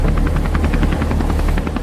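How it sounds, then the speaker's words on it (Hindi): Helicopter rotor thumping steadily and loudly with a rapid, even beat over a deep engine drone, heard in a comic scene as the craft lifts off. "चल पायलट, हेलीकॉप्टर को उड़ा।"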